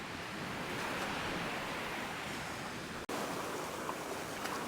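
Continuous broadband surf from sea waves washing into a beach cove in Albufeira, steady and fairly loud with wind roar, briefly cut off once.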